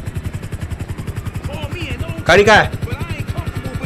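A police helicopter in the video game GTA V thumps overhead with a fast, steady rotor chop throughout, while a voice speaks briefly over it.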